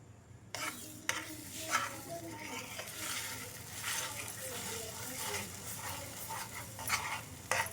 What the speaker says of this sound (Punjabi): ਹੁਣ ਆਪਾਂ ਨੂੰ ਚਲਾਉਂਦੇ ਜਾਵਾਂਗੇ ਤੇ ਗਾੜਾ ਹੁੰਦਾ ਜਾਏਗਾ